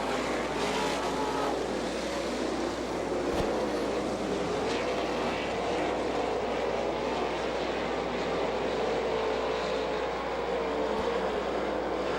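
Sprint cars from the All Star Circuit of Champions roar around the dirt track at Butler, Michigan, just after the green flag, a dense steady wall of engine noise with no voices over it.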